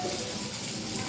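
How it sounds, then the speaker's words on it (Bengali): Tap water running steadily while ginger is washed for tea, a brief close, continuous splashing gush in a kitchen sink. "আদাটা ধুয়ে নিই"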